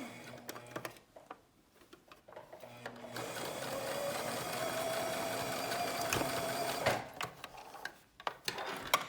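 A sewing machine stitching layers of fabric for a three-layer face mask, bursts of rapid mechanical whirring broken by short pauses and handling clicks, then one longer steady run of stitching in the middle.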